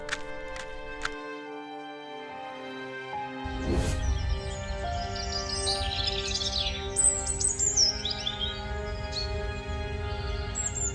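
A golden bird in an animated moral tale chirps and tweets in bright, quick bursts over a steady bed of background music, with no speech.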